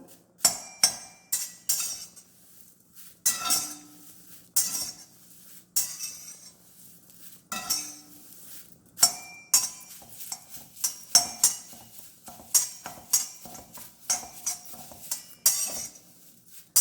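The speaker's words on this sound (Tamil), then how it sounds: "இந்த மாதிரி வறுத்துக்கலாங்க நம்ம" Spices dry-roasting in a pan for sambar powder, stirred with a metal spoon in irregular scrapes and sharp clinks against the pan, moderately close, with quiet gaps between bursts of stirring.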